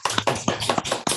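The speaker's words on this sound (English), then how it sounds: "a round of applause?" A small online audience claps from their homes on a video call after a poetry reading, a brief patter of scattered hand claps arriving in quick uneven bursts.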